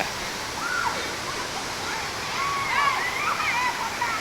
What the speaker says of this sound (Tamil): வந்தாச்சு ஃபால்ஸுக்கிட்ட ஆத்தாடி தண்ணி சூப்பராக ஊற்றுது